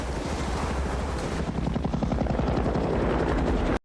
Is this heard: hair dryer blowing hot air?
no